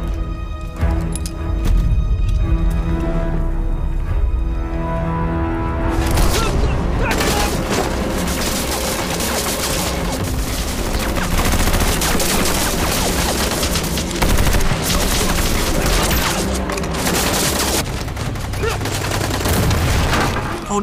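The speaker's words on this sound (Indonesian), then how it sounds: "aksi tembak-menembak tak bisa dihindari" A loud, dense film shootout rolls on without pause: bursts of automatic and single gunfire with heavy booms layered over a thick, continuous din, close and overwhelming, with no talk heard.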